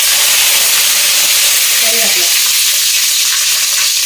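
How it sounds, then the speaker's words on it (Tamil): Fenugreek seeds fry in hot oil for a fish curry, a loud, close, unbroken sizzle and hiss filling the whole stretch, with a faint stir of the pan and no talking. "இப்போ வெந்தயம் போட்டுக்கலாம் வெந்தயம் வந்து நல்லா வாசனையாக இருக்கும் மீன் குழம்புக்கு"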